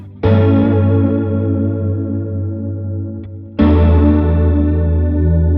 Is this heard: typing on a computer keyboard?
no